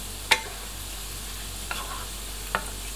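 Pork belly fries in clear oil over medium heat, giving a steady soft hiss with a few sharp pops and spatters.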